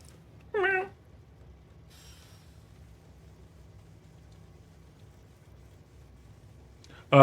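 A pet cat gives a short meow near the start, then a second brief sound at the very end, with a low steady hum underneath and near silence between.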